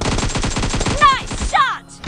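Rapid gunfire in a team deathmatch arena video game, a fast, loud, evenly spaced burst of machine-gun shots, with a couple of higher whizzing effect sounds near the end.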